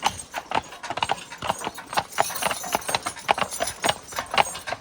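Steady, rhythmic clip-clop of horse hooves striking the ground at a walking pace, continuing throughout with some faint background voices.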